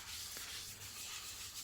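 Fine 0000 wire wool rubs steadily over a turned sycamore bowl coated in sanding sealer, a soft continuous hissing scrub at close range, faint and unbroken with no talking.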